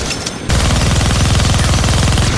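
Minigun firing in the Deadpool video game, a loud, rapid, continuous stream of gunfire bursting in after a brief quieter moment and roaring without pause to the end.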